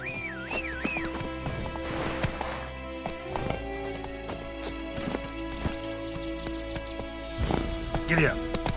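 Horse galloping in The Witcher 3 video game, rhythmic clip-clop hoofbeats running throughout, close and steady, with game music and effects layered around them.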